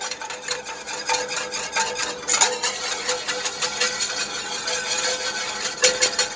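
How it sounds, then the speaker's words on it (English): Flour and butter are whisked together for a sauce in a pan, a steady close scraping and clinking of utensil against metal that keeps up without pause, with no talking. "mixing your flour and your butter for your sauce"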